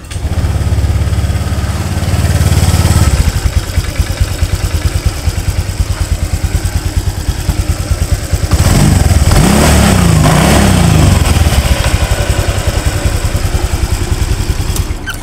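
A Honda Vario 150 scooter engine starts and settles into a steady idle, then revs up with a rising whine before dropping back to idle, loud and close throughout.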